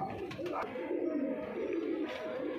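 Soft, low coos of a pair of Punjabi Malwai pigeons, including a yellow female, repeat close by against a quiet background hum.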